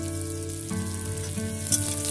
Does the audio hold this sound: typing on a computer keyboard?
no